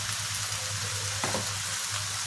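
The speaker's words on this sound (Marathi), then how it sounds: "ह्याला आता चांगलं शिजू देऊयात आपण थोडा वेळ, टमाटे मऊ होईपर्यंत" Tomatoes with salt cooking in a pan for butter chicken gravy, a steady soft sizzle and bubbling with a low hum underneath and a brief louder stir in the middle.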